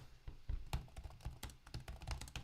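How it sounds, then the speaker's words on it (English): Someone types on a computer keyboard during a programming session, a quick irregular run of close, crisp key clicks and soft thuds, fairly quiet with no talk over it. "Yeah, you're typing."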